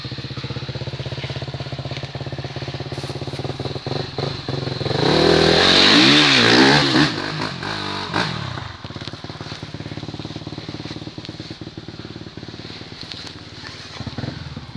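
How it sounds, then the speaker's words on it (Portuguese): A Honda CRF 250F dirt bike revs hard on a slick, muddy trail after rain, its engine climbing to a loud, rising roar midway before dropping back to a rough, crackling idle. "já liga ela e já acelera pra passar aqui, Marcelo"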